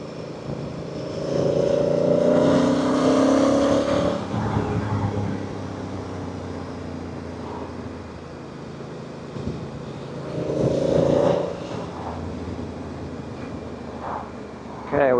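A Honda CRF1000 Africa Twin DCT motorcycle engine rises in two distinct revving surges while riding, each climbing in pitch before easing back into a steady drone.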